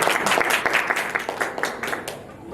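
A church congregation at a Christian gathering breaks into applause, a dense run of handclaps from many people that rises and falls for a couple of seconds with no clear voices over it.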